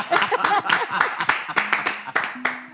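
A few people clap their hands in short, uneven bursts during a live stream, the sharp slaps mixing with French speech that runs over them from start to finish.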